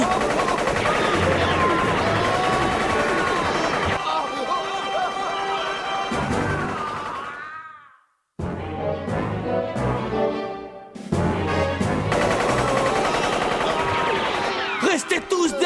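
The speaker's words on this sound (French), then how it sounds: "Quelle puissance pour une simple mitraillette," Sustained machine gun fire from an animated series, loud and continuous in long rattling bursts, cutting out abruptly into silence midway before resuming at full intensity with a chaotic, crashing mix.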